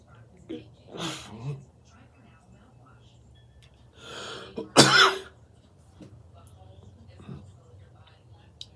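A man coughs and clears his throat while smoking a cigar, a few short bursts spread apart, close and moderately loud in a quiet room.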